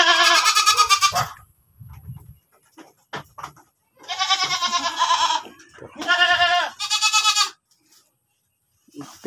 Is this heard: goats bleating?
yes